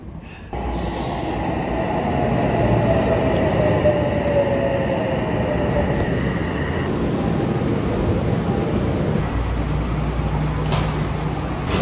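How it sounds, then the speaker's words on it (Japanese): A train rumbles loudly and steadily close by at Shinjuku, Tokyo, with wheel noise and a faint high squeal, the sound shifting partway through as it keeps rolling. "さあ新宿着きましたさあ電車乗り換えです"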